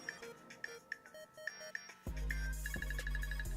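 An iPhone ringtone plays after the phone's water test. Quiet melodic chimes give way to a louder, brighter ringtone pattern, with a rapid repeating trill near the end.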